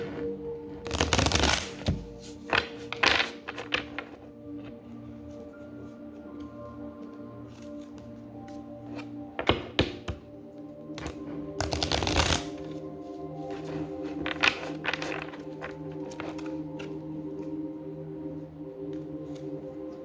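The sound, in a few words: shuffling tarot cards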